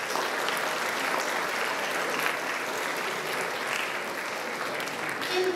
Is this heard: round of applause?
yes